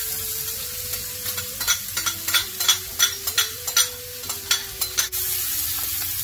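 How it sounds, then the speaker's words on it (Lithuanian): Onions frying in a hot wok for a Chinese crispy carp dish, a continuous sizzle punctuated by a rapid series of sharp spatula scrapes and clanks, close and without speech. "Dedam svogūnus į kaitą."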